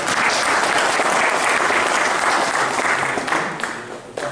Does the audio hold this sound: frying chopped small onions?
no